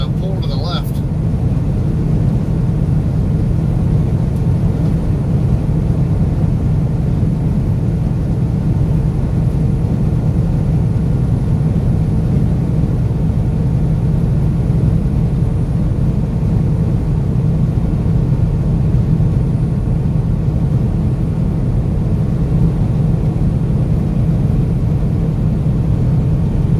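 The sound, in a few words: wind buffeting a truck while driving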